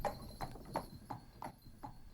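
Hooves clip-clop at a steady gallop as a horse carries two riders away, each strike crisp and fairly close, with a faint ringing tone beneath and no voices.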